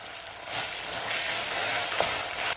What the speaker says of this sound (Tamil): பச்சை வாசனை போக ஒரு 2 நிமிஷம் வதக்கி விடலாம்.